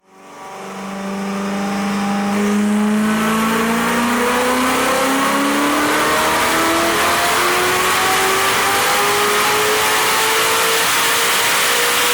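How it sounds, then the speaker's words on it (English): A Ferrari 488 GTB fitted with upgraded turbos revs hard on a dyno, its engine note climbing steadily in pitch as it builds speed, loud and continuous with no talk over it. "Right now we're gonna get the car up to speed, calibrate the dyno, see if we can get a torque reading."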